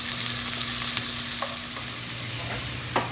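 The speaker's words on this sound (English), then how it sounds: "So as we've got our vegetables sauteing here" Celery and carrots saute in a hot pan as a steady moderate sizzle, with a low kitchen hum underneath and a few light utensil taps, no one speaking.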